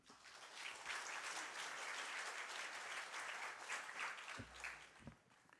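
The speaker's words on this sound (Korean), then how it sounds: "우리 목사님 나오실 때 박수로 맞아 주시기 바랍니다." Congregation applauding to welcome a pastor to the pulpit during an ordination service at a Baptist church, a dense sustained wash of many hands clapping that tapers near the end.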